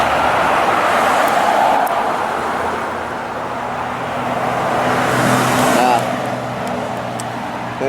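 A car drives by on a city street, its broad roadway rumble and tire hiss rising and fading at moderate distance amid steady traffic noise.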